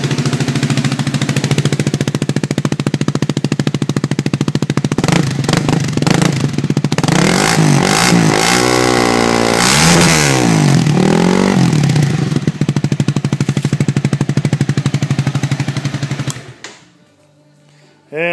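Honda CBR 250R motorcycle fitted with a custom exhaust, revving hard and loud up close in repeated rising and falling bursts over a steady idle, then cutting off abruptly near the end.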